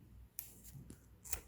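Scissors snip through wool yarn in a few quick, crisp cuts, close and quiet, with a short gap between the blade closures.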